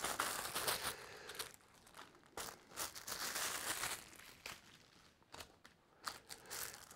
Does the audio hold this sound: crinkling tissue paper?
yes